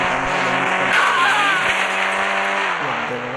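A car engine revs steadily in the mobile driving game Indian Bikes Driving 3D, a loud sustained drone with a brief tire squeal, the pitch dipping near the end as the car slows or shifts.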